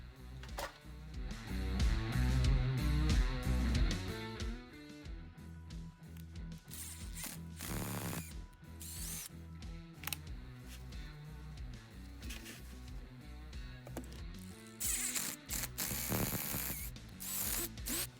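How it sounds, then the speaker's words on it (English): Small screws driven into an Arrma RC car motor heatsink, self-threading through each hole, giving quiet close ratcheting and turning noises in short bursts with pauses between. "you screw it down through each of the holes, and it just threads it for you"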